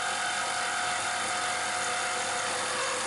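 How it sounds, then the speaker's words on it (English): A small milling machine running near 2,500 RPM climb-mills a Stirling engine crank disk, producing a steady, loud, continuous high cutting whine with no break and no voices. "So this is just climb milling this whole thing here."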